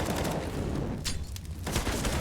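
Gunfire during a Counter-Strike match, rapid overlapping rifle shots in a dense burst with a couple of sharper cracks standing out, loud and close.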